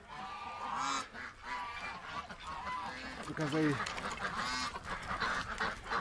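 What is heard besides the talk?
ducks honking in a backyard pen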